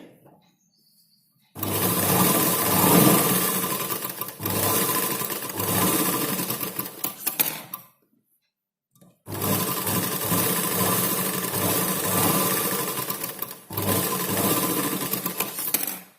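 Tucks on a blouse are sewn on a sewing machine in two long steady runs of several seconds each, loud and close. The motor hum is even, with a brief pause between the runs and a short break near the end.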